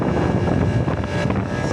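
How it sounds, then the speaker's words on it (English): Strong wind gusts roar across an outdoor microphone near a leaking chiller unit, a steady, loud rumbling buffet with no one speaking. "it's been so freaking windy. You see the wind there blowing the weeds all over"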